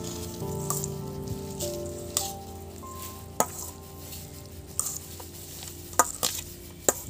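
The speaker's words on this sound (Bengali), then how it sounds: "ভালো করে মিক্স করে নিচ্ছি।" Puffed rice and onions mixed for piyaju, with soft rustling and stirring strokes, a faint sizzle and occasional sharp clicks of a utensil against the bowl, close and fairly quiet, no talk.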